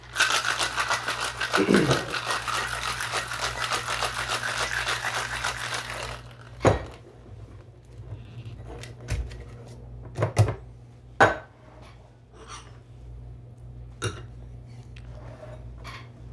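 A cocktail shaker mixing a half ounce of lemon juice into a drink rattles with dense, loud ice-filled shaking for about six seconds, then gives way to a few sharp knocks and clinks of bar gear.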